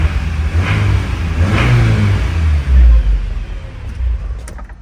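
An old truck engine running and revving close by, a deep loud rumble that swells and surges several times without speech.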